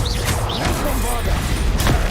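Bombarda blasting spell striking in Hogwarts Legacy, a crunchy smash and thud amid busy combat noise with whooshes and clattering effects over about two seconds.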